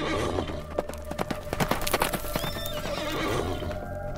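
A mule gallops with rapid, rolling hoofbeats and lets out a loud, wavering neigh midway, close and dramatic, set as an effect within a spooky rural horror tale.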